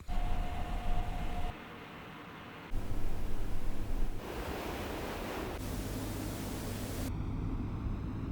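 Ambisonic room tone recorded in an accommodation room with a Zoom H3 VR mic for an abandoned hospital game, a steady broadband hiss that shifts in character between segments, with no voices.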